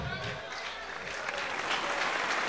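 Audience applause at an awards show, a dense steady wash of clapping from a large crowd that holds at full strength throughout.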